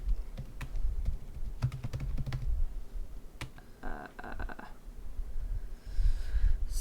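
Typing on a computer keyboard, a run of close, irregular key taps with a few louder strokes, some background noise and a brief tonal beep partway through.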